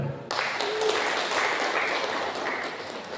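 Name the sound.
applause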